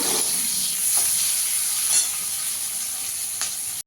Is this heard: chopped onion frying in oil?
yes